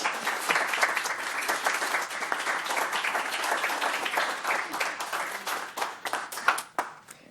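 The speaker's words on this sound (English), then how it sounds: "A well-deserved round of applause for Chief John Fitzgerald after he announced his retirement" A room full of people at a Keego Harbor city council meeting gives sustained, fairly close applause for a retiring police chief, the clapping thinning toward the end into a few last scattered claps.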